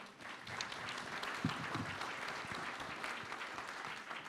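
A conference crowd applauds a manufacturing sustainability panel, a soft, continuous wash of many distant hands clapping at a steady level throughout.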